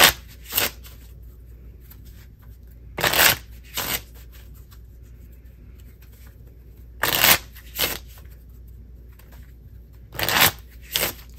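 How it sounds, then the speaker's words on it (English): Playing cards being shuffled, heard as four separate riffle bursts spread over about eleven seconds, each a crisp, close ripple of card edges with quiet pauses between them and no talking. "6 of spades going back in, and we'll shuffle."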